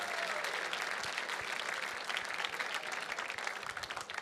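A big round of applause from a gala crowd for donors at The Mountaineers 2023 Gala, dense, continuous clapping filling the room at an even level throughout, with a faint murmur of voices mixed in.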